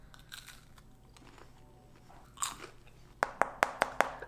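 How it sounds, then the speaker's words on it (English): Faint rustling, then a louder crunch and a rapid series of five sharp, crisp crunches of someone biting into crusty bread up close. "It's like perfectly crunchy bread, but once I bite into it"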